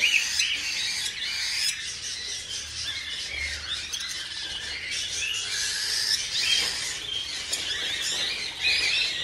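A flock of birds near a nest box chirps and squawks continuously, a dense busy chatter of overlapping shrill calls with no pauses, fairly close and steady throughout.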